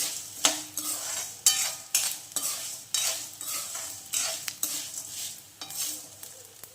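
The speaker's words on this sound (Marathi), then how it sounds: "चम्मचभर तुपावरती आपला डिंक जो आहे तो छान असा तळल्या गेलेला आहे" Edible gum (dink) frying in a spoonful of ghee while being stirred, with rhythmic scraping strokes of a spoon against the pan every half second over a soft, steady sizzle and no talking.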